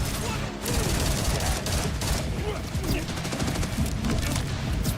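Dense, continuous gunfire from the video game Borderlands, rapid overlapping shots forming a loud, unbroken barrage throughout.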